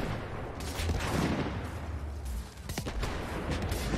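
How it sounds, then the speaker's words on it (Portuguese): Grenades go off in Dauntless during a monster hunt against the Shrike, a dense run of rapid blasts and crackling bursts layered over game sound with no talking. "Vou jogar as granadinhas dela pra ela ficar esperta."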